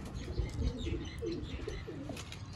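A mid-sized show pigeon in a fancier's loft gives a short burst of wing flapping, followed by a few soft coos and faint chirps against low background noise.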